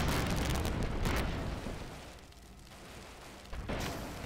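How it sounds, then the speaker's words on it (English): Rocket explosions in the video game Airships: Conquer the Skies, with loud booming bursts that fade into a rumbling decay before another blast hits near the end. "That is rockets."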